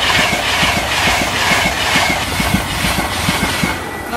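A train passing over Connington Level Crossing in Cambridgeshire, loud and close, with a steady rumble and a rapid, regular clickety-clack of wheels over rail joints throughout.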